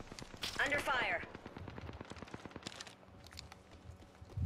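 Rapid bursts of gunfire in a shooter video game, dense and punchy with scattered single shots, under game effects and some background noise.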